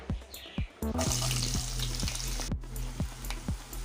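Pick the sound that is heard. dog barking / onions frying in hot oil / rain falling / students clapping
onions frying in hot oil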